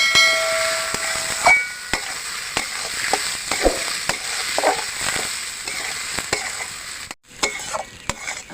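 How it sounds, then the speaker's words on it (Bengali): Gobindobhog rice with fried potatoes, turmeric and salt sizzles in a pan, crackling steadily while a utensil scrapes and stirs in repeated strokes, close up with no voices. "আমি চালটা এবার আলুর সাথে আর একবার ভালো করে ভেজে নেব।"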